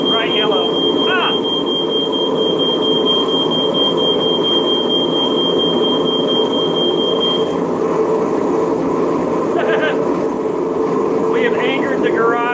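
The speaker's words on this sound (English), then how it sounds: "We have angered the garage smoke detector." A garage smoke detector shrills in a steady, loud high-pitched tone for about seven seconds, then gives a few shorter chirps, over a constant roar from a forge heating Damascus steel toward welding heat.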